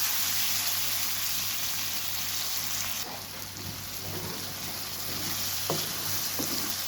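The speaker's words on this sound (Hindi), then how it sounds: "अब इसको हम अच्छे तरीके से भूनेंगे और इसके साथ ही हम इसके अंदर जो है ना टमाटर ऐड कर देंगे" Chicken karahi fries with tomatoes in a pan, producing a soft, continuous sizzle with a low hum underneath and a few faint clinks of stirring toward the end.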